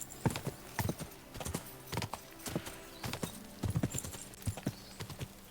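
Horse hooves clip-clopping in the Kingdom Come Deliverance 2 video game while riding, a steady uneven run of quiet, distinct hoof strikes with no other sound.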